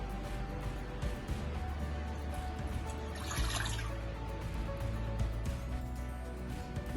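Water pours steadily into a cooking pot on low heat for jalebi syrup, a soft, continuous trickling splash that briefly brightens midway, close and moderately quiet.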